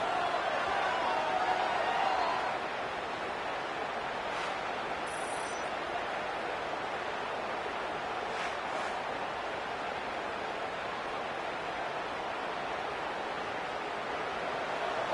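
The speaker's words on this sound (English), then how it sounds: "listen to this crowd noise. This stadium is vibrating." Roaring crowd noise fills a football stadium during a 1996 Canadian Football League game between the Alouettes and Roughriders, a steady dense wash of cheering that swells slightly at the start, with faint calls rising above it.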